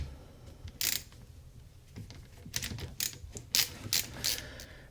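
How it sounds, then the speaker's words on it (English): Screws being driven by hand into a Boyds At-One thumbhole rifle stock fitted to a Ruger American .270 Win, a series of close, irregular ratcheting clicks and metallic rasps, no speech. "As you get the screws in place, don't tighten them down yet."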